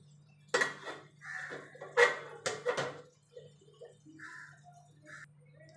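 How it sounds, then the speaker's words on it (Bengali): A wok is set down on a stove, producing a few close metallic clanks and scrapes in an otherwise quiet room, with a low steady hum underneath. "রেখে দিয়ে এই ওভেনে একটা কড়াই বসিয়ে দেবো"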